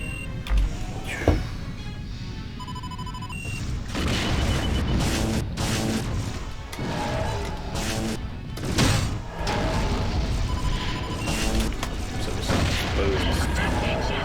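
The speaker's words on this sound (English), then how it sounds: "The missiles in this game are very satisfying to fight." Missiles launching and detonating in the space combat game Wing Commander Prophecy, a dense run of booms and crashing blasts over game music and mechanical effects, with someone talking over the action.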